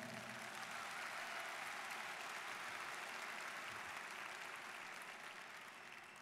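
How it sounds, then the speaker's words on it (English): A graduation ceremony audience at a technical community college applauds in a steady, dense wash of clapping heard from a distance, fairly soft and even, tapering slightly toward the end with no talking. "Please give them all a round of applause."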